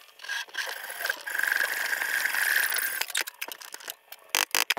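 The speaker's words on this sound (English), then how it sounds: "I'm gonna cut it with the hacksaw" Hacksaw cutting anodized aluminum Schluter tile trim: a steady, loud rasping stroke runs for about three seconds, then shorter choppy strokes and scrapes follow.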